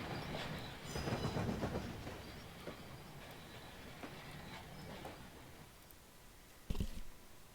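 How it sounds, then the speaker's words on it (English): Train rolling along rails in the Trainz railway simulator, a low continuous rumble with clickety-clack wheel beats that starts out louder and eases off, then a sharp clunk near the end, with no talk. "Am I hearing another train?"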